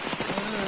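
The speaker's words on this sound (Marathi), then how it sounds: "बघा पाऊस खूप पडतोय" Heavy rain pours down steadily in a dense, continuous hiss of drops striking surfaces, with no break in the downpour.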